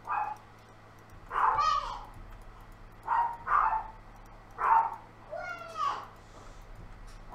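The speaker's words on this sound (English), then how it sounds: "Hey, it wouldn't be a stream without the dogs." Small dogs bark and yip in short bursts, several volleys spaced a second or so apart, fairly close over a low household hum, with a voice mixed in.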